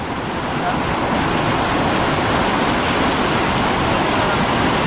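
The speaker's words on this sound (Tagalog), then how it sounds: "Ibig sabihin lumakas yung tubig oh." Loud, steady roar of rushing water at an old dam, a continuous dense wash of noise with no breaks, close to the listener.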